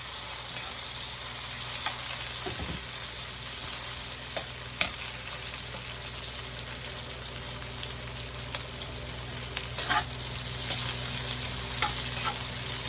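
Garlic and onion sauté in a pan for a Filipino dish of bottle gourd with liver, giving a steady close sizzle with occasional scraping stirs and small pops throughout, no talking.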